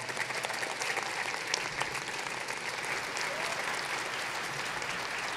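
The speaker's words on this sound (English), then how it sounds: "Can we all give them a round of applause for being here?" A graduation crowd at Huron High School applauds school district executives with dense, even clapping that holds at a moderate, somewhat distant level throughout, with no speech over it.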